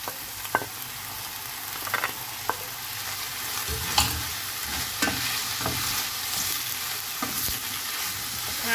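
Onion, peppers and tomatoes sautéing in a hot pan, a continuous close sizzle broken by repeated scraping and clacking stirs of a spoon at an uneven rhythm.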